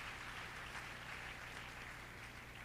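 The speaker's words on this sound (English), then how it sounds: "Let's give them a round of applause." A large audience claps steadily at a youth empowerment week launch event, a dense continuous wash of applause at moderate distance with no voices over it.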